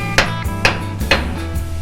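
A chisel is struck with a hammer to pry parts off a 1960s Chevy C10 truck frame, three sharp metallic blows at an even pace over a steady low hum.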